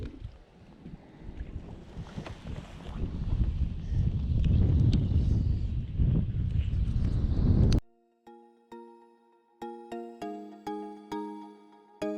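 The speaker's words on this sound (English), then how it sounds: "Just too windy." Loud gusty wind buffets the microphone for several seconds on Lake Hodges, then stops abruptly and gives way to plucked musical notes.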